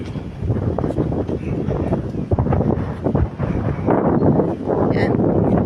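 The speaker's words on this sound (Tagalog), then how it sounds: "Lakas ng hangin." Strong wind buffets the microphone in a continuous, loud rumble with gusts, outdoors in Kaohsiung, with no clear voices.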